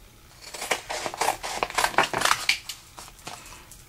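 Scissors cut out a paper craft shape, making a rapid series of close, crisp snips and paper rustles in an uneven rhythm that slows and fades near the end.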